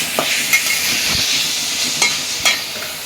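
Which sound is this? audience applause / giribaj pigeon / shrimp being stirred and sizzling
shrimp being stirred and sizzling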